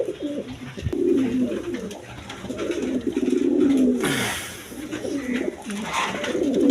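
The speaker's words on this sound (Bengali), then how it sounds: "এখানে এক পেয়ার মাল্টেস কবুতর আছে" A pair of Maltese pigeons coo close by in repeated throaty, rolling phrases, with some rustling in the background.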